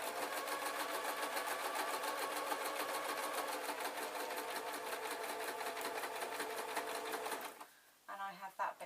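Sewing machine running steadily while stitching a beaded clutch bag, a fast, even mechanical whir close by for most of the clip, then stopping, followed by a few softer handling sounds.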